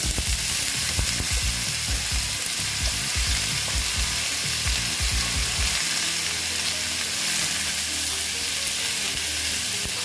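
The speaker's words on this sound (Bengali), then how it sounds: "আলুটা প্রায় আমার ভাজা হয়ে এসছে হ্যাঁ এখন আমি এঁচড়গুলো দিয়ে দিচ্ছি" Potatoes and young jackfruit fry in a pan with a steady, loud sizzle and repeated scraping stirs, the stirring clatter easing off midway while the hiss continues.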